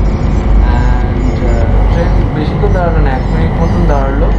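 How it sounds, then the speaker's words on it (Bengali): A Bangkok Airport Rail Link train runs from Suvarnabhumi Airport into the city, its loud, steady rumble and rail whine continuous from the cabin, with voices talking under the noise. "আমরা উঠে পড়েছি ট্রেনে ট্রেন ছেড়েও দিয়েছে"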